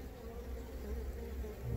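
Honeybees buzz on a hive frame during a search for a supersedure queen, a dense continuous low hum from many bees close to the listener, steady throughout with no talk.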